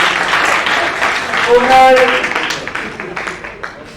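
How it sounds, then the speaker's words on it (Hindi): A crowd claps at a cricket player auction, a broad wash of applause that swells and fades under an announcer's voice. "जोरदार तालियां बड़ी सी कराएंगे कर्नाटका के लिए।"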